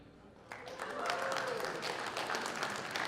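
Audience clapping at a live comedy and gaming show, starting after a quiet moment and swelling into steady, moderately distant applause that continues to the end.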